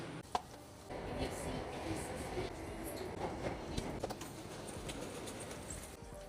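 Singapore MRT train at Marymount station, heard as a steady broadband rumble and rushing hiss that fills the whole stretch, with a sharp clank near the start and faint scattered station clatter.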